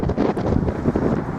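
A light gust of wind buffets the microphone outdoors in a park beside water, a steady low rumbling blow that stays loud and unbroken for the whole brief moment.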